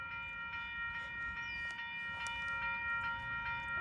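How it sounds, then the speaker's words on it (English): A VIA Rail passenger train hauled by a Siemens Charger locomotive rumbles past nearby with steady rolling noise, scattered metallic clanks, and a sustained high tonal whine over the top. "Oh, it's a via train."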